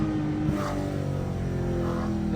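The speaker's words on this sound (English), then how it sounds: "Those crispy downshifts are like," Infiniti G37 fitted with a titanium single-exit exhaust downshifting, a close, steady engine drone with throttle blips and rising revs, no talk.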